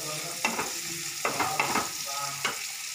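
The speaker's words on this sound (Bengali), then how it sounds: "আমার পেঁয়াজ ভাজা হয়ে গেছে" Onions sizzle gently in a pan, a soft constant hiss broken by a handful of spoon-stirring scrapes at irregular moments.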